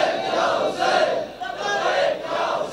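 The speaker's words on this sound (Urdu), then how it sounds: "سارے بولو سارے لبیک یا حسین" A large crowd at a 15 Shaban celebration in Nawani, Bhakkar chants Labbaik ya Hussain in loud rhythmic unison, the massed voices rising and falling in waves.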